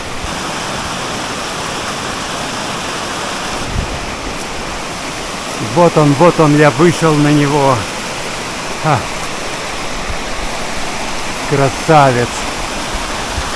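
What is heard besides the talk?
waterfall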